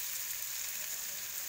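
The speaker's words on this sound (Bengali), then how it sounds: "তো চলো এবার যে সবজিগুলো ফ্রাই হচ্ছে তার মধ্যে এটা আমি অ্যাড করব।" Vegetables fry steadily in a pan for khichuri, a continuous bright hiss of oil sizzling at an even level throughout, close and uninterrupted, with no voices.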